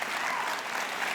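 An audience at a tech conference keynote bursts into dense, even clapping that fills the short moment without a break.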